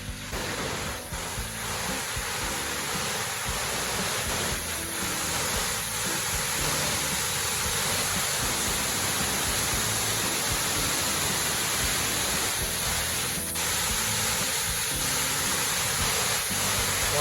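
Hector Falls on the east side of Seneca Lake, off Route 414, roars as a steady, broadband rush of falling water, continuous and fairly close, with occasional soft wind bumps and no talk.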